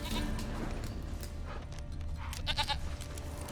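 A goat bleats briefly in The Witcher 3: Wild Hunt over a low background hum, a short wavering cry standing out near the end.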